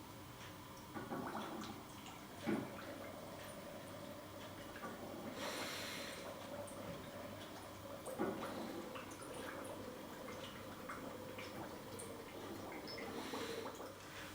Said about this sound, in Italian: L'intento è far uscire le bolle di continuo